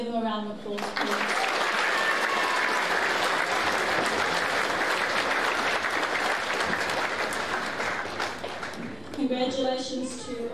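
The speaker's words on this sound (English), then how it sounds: "If we can give them a round of applause, please." Audience at a school senior prizegiving ceremony gives a steady round of applause for award winners, full and sustained for several seconds before fading as a voice resumes.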